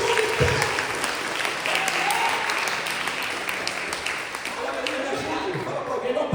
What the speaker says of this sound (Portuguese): Aplauda o Senhor e glorifique o nome dele.